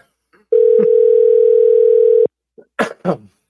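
A telephone dial tone hums steadily at close range for almost two seconds while a phone call is being placed, then cuts off abruptly and is followed by a few brief handling clicks and knocks.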